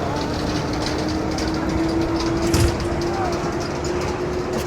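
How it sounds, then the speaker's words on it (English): Little land train rolling along the beachfront at Can Pastilla, Mallorca, heard as a steady engine rumble with a faint tonal hum under constant outdoor noise, swelling briefly as it passes close. "We can see the little land train heading by."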